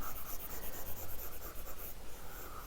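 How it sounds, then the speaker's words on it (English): Eraser rubbing across a board in a lecture room, quick back-and-forth scrubbing strokes in a steady rhythm, close and alone. "So let us erase"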